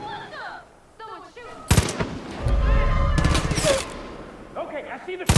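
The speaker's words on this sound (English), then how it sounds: "Should I just go ahead and shoot him?" Gunfire in the Far Cry 5 video game: bursts of loud rapid shots and sharp single cracks at close range, separated by quieter game sounds and ambience.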